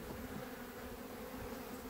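Honeybee drones hum around an open hive, a faint, continuous buzzing drone with no voices.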